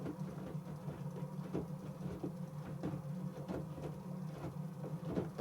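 A slightly ropey motor spins at about 1550 rpm, giving a faint, steady low hum with a repeating rhythmic clatter and knock throughout.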